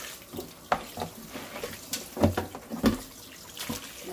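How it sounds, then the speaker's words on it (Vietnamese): A large whole rooster is washed under running water in a home kitchen. Irregular splashes, sloshing and handling bumps come close and moderately loud, with no voices. "Rửa sạch con gà ha."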